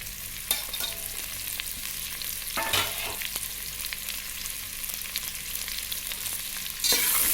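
Sliced onions fry in hot oil for ghee rice, a continuous close sizzle with occasional stirring knocks and scrapes against the pan, steady throughout with no talking.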